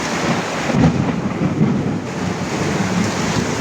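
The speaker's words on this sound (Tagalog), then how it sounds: "Biglang bumuhos ang napakalakas na ulan, guys. May kidlat at saka kulog." Heavy rain pours steadily while deep rolling thunder rumbles through the downpour, loud and close, during a storm with lightning.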